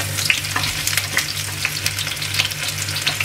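Chopped shallots and garlic sizzle hard in hot oil in a pan while a spicy beef rib dish is cooked, giving a dense, close, continuous crackle with sharp pops and stirring scrapes, with no voices.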